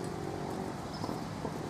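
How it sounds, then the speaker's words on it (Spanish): Hooves of a Criollo horse used to city traffic walk along a street in Chascomús, Buenos Aires, a steady clip-clop close by over a constant background hum. "Caballo que está acostumbrado a andar en la ciudad"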